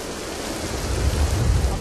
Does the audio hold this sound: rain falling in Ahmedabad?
yes